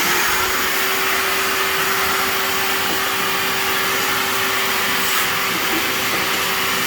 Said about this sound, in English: Take this shop vac and vacuum this stuff out of here